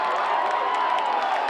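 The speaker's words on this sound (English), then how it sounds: "Crowd getting loud." High school football crowd roars in a loud, sustained wall of cheering and shouting from the stands, swelling steadily with no break.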